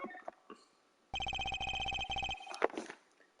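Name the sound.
telephone ringing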